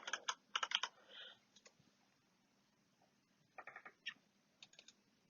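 Typing on a computer keyboard, quiet and close, with quick bursts of key clicks, a pause, then a few more scattered keystrokes, no talk.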